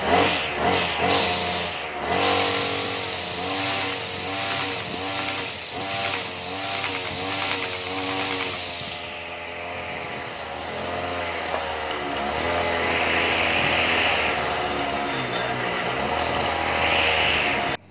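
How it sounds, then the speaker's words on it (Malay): A small engine running and spinning a blade, giving a loud buzzing whine that revs up and down in repeated surges before settling into a steadier, lower drone. "Kita gunakan enjin yang pusing mata ni."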